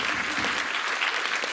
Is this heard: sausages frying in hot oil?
no